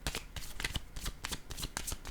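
Tarot deck being shuffled by hand, a rapid, rhythmic series of crisp card riffles and slaps, close and fairly loud, with no talking.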